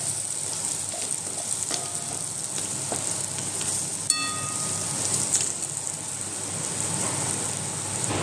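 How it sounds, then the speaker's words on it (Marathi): Cluster beans (gavar) with red chili powder sauté in a pan, giving a steady close sizzle with soft stirring scrapes and no talk. "ही गवारीच्या शेंगाची भाजी अशी छान परतून घेते"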